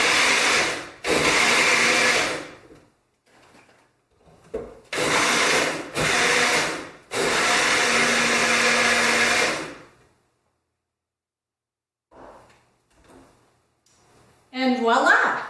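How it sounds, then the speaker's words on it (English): A kitchen blender pulses cilantro jalapeno ranch dressing in short loud whirring bursts, several on-off pulses with pauses between, then quiet and a brief closing clatter. "I'm going to put it into the motor base and pulse it a few times"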